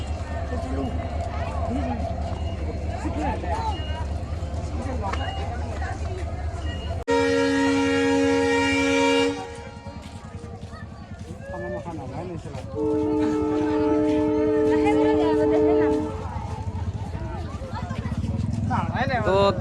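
A train rumbles past steadily with loud horn blasts sounding twice, while people talk over the noise.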